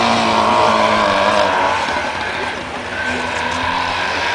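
Trabant race cars at full throttle in a winter race, a loud, steady buzzing engine drone that dips briefly and then rises again, with commentary over the top.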